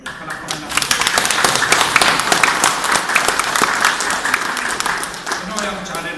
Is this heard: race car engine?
no